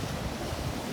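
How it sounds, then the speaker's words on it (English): Ocean waves breaking off Jeanette's Pier on the Outer Banks, a choppy one-to-two-foot surf, roll in as a steady, broad wash of close, continuous rumbling water with wind buffeting the microphone and no voices. "A little choppy, but still getting a little barrel action on these waves breaking here off Jeanette's Pier"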